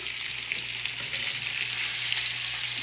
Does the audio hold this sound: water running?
no